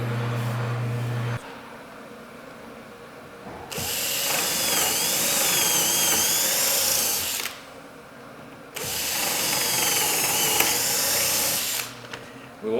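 Power drill boring holes into a Lionel FasTrack modular railroad layout, running in two sustained bursts of several seconds each, with quieter pauses between them.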